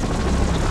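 A helicopter flying overhead in a tense standoff scene, a steady loud rotor-and-engine rumble filling the short moment with no talk.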